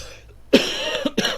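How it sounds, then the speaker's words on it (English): On air, a radio host gives a sharp cough, then two or three smaller coughs follow quickly, close to the microphone with a quiet background. "I had to cough. I'm so sorry. I don't have a cough button"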